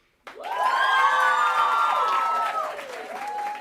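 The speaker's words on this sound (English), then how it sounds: "we wanted to give a round of applause to Mick." An audience at a journalism and PR awards ceremony bursts into applause with loud cheering and whooping voices, sudden onset and sustained for a few seconds.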